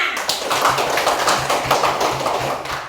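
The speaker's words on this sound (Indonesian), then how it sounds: "Tepuk tangan buat temannya." A group of schoolchildren claps in a quick, even rhythm for a classmate, the patterned claps close and lively throughout.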